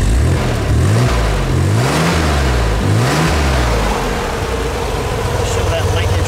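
A car engine revs several times in a row, a deep, loud rising and falling roar over a rough idle, heard close by. People talk over it.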